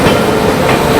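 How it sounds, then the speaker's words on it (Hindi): A Howrah Rajdhani express train rolls out of a station, a loud, close, steady rumble of wheels and carriages with a faint clatter and hiss. "हावड़ा राजधानी अब जो है यहाँ से डिपार्चर लेगा"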